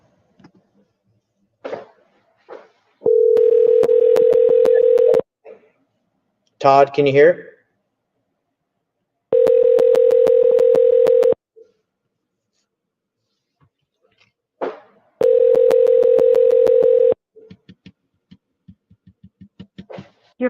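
A phone call dialing and ringing, with repeated long electronic ring tones separated by pauses, close and clear, along with short dial blips and a brief spoken phrase between rings.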